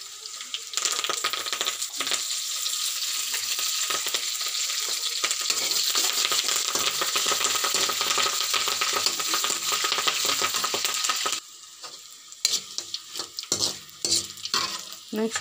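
Peanuts, spices and curry leaves frying in a pan for tamarind rice: a loud, steady, hissing sizzle with stirring scrapes that suddenly drops away near the end, leaving intermittent clatter and softer crackle.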